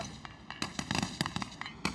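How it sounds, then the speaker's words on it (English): Sharp, irregular bursts of gunfire ring out one after another during an armed assault on a hijacked airliner as passengers are evacuated, loud cracks over a rough background with no speech. "the French Special Forces is evacuating the passengers through a hail of gunfire"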